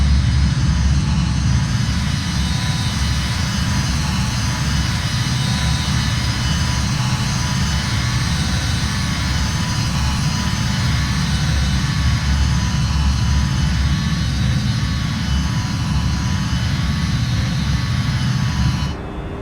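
Embraer E190 freighter jet engines in a flight simulator game, a steady, loud broadband roar with a low rumble and faint high whine, continuous and unbroken for the whole stretch with no voices.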